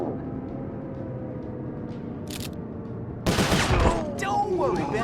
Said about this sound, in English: Looks like you're gonna have to shoot your way out, Tennessee.